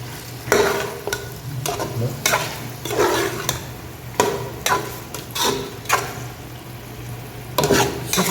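Repeated scraping stirs of a spoon through a potato and egg dish as spices and coriander leaves are mixed in, a soft sizzle humming steadily beneath the rhythmic strokes.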